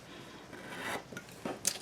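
Scissors or a trimmer cutting and rasping along a paper piece for a mini album, a few short soft scraping strokes close by, fairly quiet with no talking.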